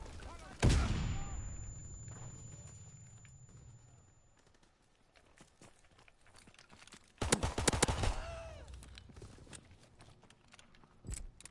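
Gunfire in Call of Duty WW2 multiplayer: a loud opening shot or burst, then a later cluster of sharp rapid reports with a trailing single shot, over low game ambience with quieter stretches between.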